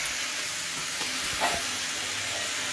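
Paneer lababdar masala frying over a high gas flame, a steady close sizzle and hiss running throughout with a small stir near the middle, no voices.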